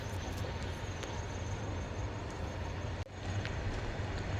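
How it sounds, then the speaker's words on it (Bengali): A steady, low rumbling drone of a train moving nearby continues throughout at moderate volume, with faint clanks and a brief dip near the end. "এবারে আপনারা ট্রেনটা সামনেই দেখতে পাচ্ছেন হয়তো"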